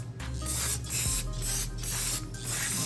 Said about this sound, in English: First thing I like to do is to clean it real quick with a brake cleaner.